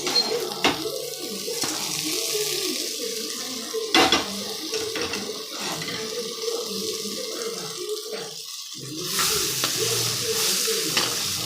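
Cooked field beans fry in oil alongside brinjal for a tamarind curry, sizzling under repeated stirring and clinks of a spoon against the pot, with a louder hiss toward the end.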